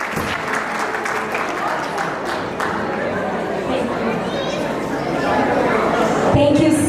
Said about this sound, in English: give a huge round of applause to all the ladies